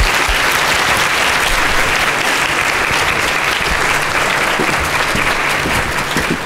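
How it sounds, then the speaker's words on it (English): An audience at an information literacy keynote breaks into sustained, dense applause that stays loud and even throughout, with no break in the clapping. "So how about another round of applause?"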